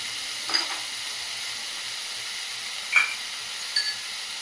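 Food sizzles gently in a pan while it is stirred. A soft, continuous fry hiss carries a few distinct scraping stirs near the start, middle and end.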